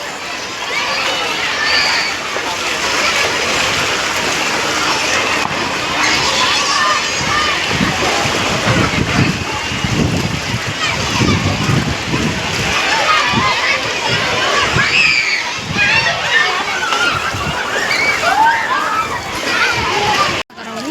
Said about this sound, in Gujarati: જાજુ પાણી છોકરાઓને નાહવાની ફૂલ મજા આવે